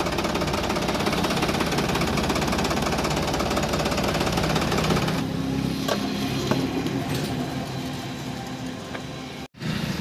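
A 2991cc diesel engine on a 50 hp Hornet 3630 Plus Next Gen tractor runs steadily and loud throughout, with a rough, knocking rumble that shifts slightly partway through before a brief dropout near the end.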